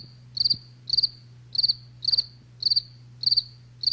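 Crickets chirp loudly and close in a regular pulse of short trilled bursts, about every half second, over a low steady hum.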